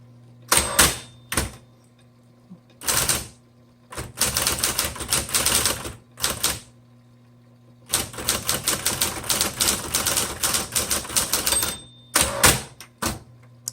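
A 1970s Smith Corona Electra 210 electric typewriter types in loud, rapid bursts of key strikes separated by short pauses, with a steady motor hum running underneath.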